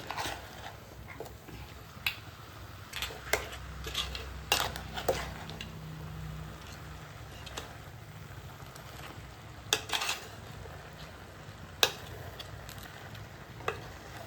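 A pan of crab curry is stirred, with a soft sizzle underneath and sharp clicks and knocks of the spoon against the pan, close and moderately quiet.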